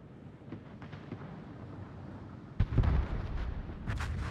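Distant heavy naval gunfire from warship cannons in World of Warships, a deep rumbling boom that rolls in after a quiet stretch of low ambient noise, followed by further faint blasts.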